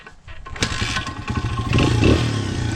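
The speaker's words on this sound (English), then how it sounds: "So just kick start the bike, or electric start, whatever you have." A dirt bike kick started, a few clattering kicks and sputters that catch into a loud, close running engine with rising revs, no talking.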